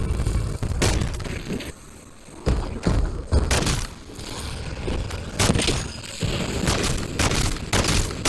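Longbow sniper rifle shots from Modern Warfare 3 Zombies ring out as heavy, booming blasts, several in irregular succession, loud and close, mixed with thuds and shattering impacts and no talk.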